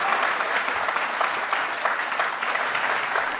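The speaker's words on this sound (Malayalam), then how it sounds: "ഈ കയ്യടി ശബ്ദം അവരുടെ മനസ്സിലൊരു വിഷമത്തിനെ ഉണ്ടാക്കും" A studio audience at a courtroom-style talk show claps in sustained, even applause, a dense steady wash of many hands filling the whole stretch without any voices.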